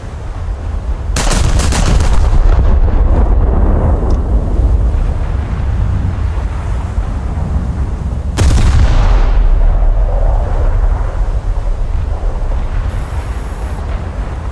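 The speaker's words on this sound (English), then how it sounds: "Let's get a good broadside." Battleship broadside cannon fire from the IJN Mutsu in War Thunder crashes out in a couple of loud booms over a constant roar of sea and wind, with no talking.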